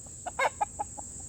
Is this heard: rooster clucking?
yes